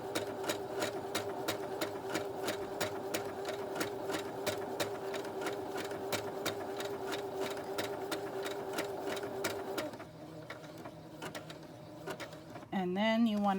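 A sewing machine stitching appliqué onto a quilt block runs in a fast, steady rhythmic chatter up close, then slows and stops as a voice begins over a quieter background.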